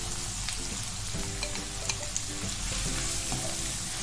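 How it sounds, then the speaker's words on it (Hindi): Chopped onions sizzle steadily in hot oil with cumin seeds, cinnamon pieces and green cardamom for a mixed vegetable korma, a close, continuous frying hiss with faint crackles and no talking. "हमें प्याज को हल्का ब्राउन होने तक फ्राई करना है।"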